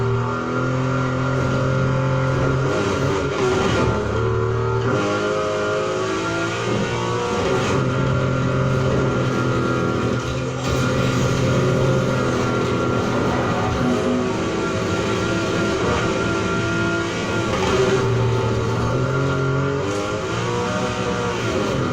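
A 1971 Nissan Skyline 2000 GT-R races in Need for Speed Heat, its engine droning loud and steady throughout, with pitch rising and falling through gear changes and no talking.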